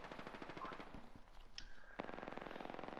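Rapid automatic gunfire in a video game, a steady stream of quiet shots with a few beeps and game tones over it, no talking.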